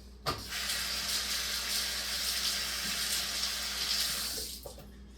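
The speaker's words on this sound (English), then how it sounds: "Wash my hand real quick." Running tap water splashes steadily over hands being washed in a kitchen sink while baking cinnamon roll cookies, a close, continuous hiss that stops abruptly near the end, with no voices.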